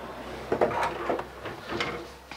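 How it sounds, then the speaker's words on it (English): A pull-out drawer in a 2019 DRV Mobile Suites 36 RSSB3 luxury fifth-wheel RV slides open and shut, giving a few close, quick sliding rumbles and soft knocks in a quiet room. "Pull-out drawer here."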